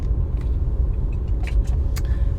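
Steady low rumble inside a parked or idling car, with faint small clicks and rattles near the cabin and no talking.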